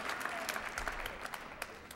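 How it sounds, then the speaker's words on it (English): Fairly faint applause from an audience at a digital policy dinner, a continuous patter of clapping with scattered louder claps, heard from some distance. "we ought to give him a big round of applause as well"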